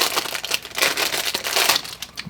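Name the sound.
unwrapping a leather wallet from its plastic bag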